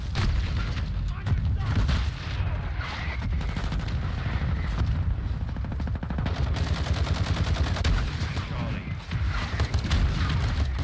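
Mortar strike explosions in Call of Duty: Modern Warfare II, a dense, loud barrage of booms and rapid gunfire bursts that pounds without pause.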